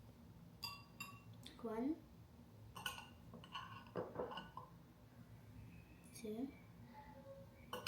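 A metal spoon clinks against a dish while scooping an ingredient for garlic bread, with several sharp clinks and scrapes spread out under a person counting aloud.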